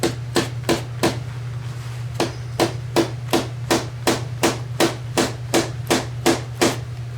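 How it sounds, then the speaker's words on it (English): Light hammer taps from a Craftsman hammer driving small screws into a stripped sling swivel hole, a steady series of about fifteen crisp, evenly spaced strikes, close and clear over a faint low hum. "Tap those in with my craftsman's hammer."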